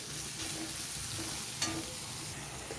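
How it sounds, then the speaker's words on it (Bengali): Onions frying gently in oil in a wok give a steady, soft sizzle with faint crackles and a brief clink near the middle, with no talking. "এবারে আমি পেঁয়াজটাকে হালকা করে ভেজে নেব, খুব লাল করে নয়, হালকাভাবে ভাজবো।"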